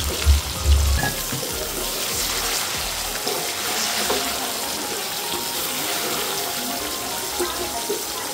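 Cooked mutton sautéing with ginger-garlic paste in oil for mutton yakhni biryani hisses with a steady, continuous sizzle, close by, after a few low knocks at the start.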